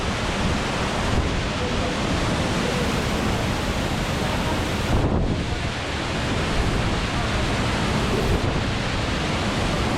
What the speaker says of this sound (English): It's so loud and just the water rushing down on you.